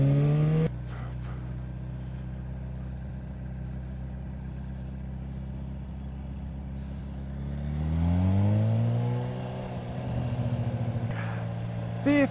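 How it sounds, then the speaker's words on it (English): An ATV passes on a town street, its engine note rising and sweeping upward in pitch as it draws near, then fading, heard over the steady drone of the recording vehicle's own engine. "Oh, we got an ATV guy coming up."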